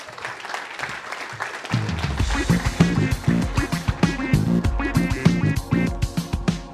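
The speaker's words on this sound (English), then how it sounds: "Please give them a big round of applause." Conference audience applause rising after a brief lull into sustained, dense clapping at close range, steady and loud throughout, with no talking over it.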